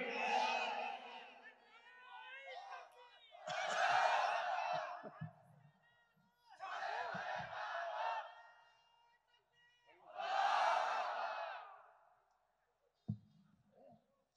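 A large crowd roars back in answer to a takbir call at a religious gathering, four long loud group shouts separated by pauses, with a few voices lingering between them.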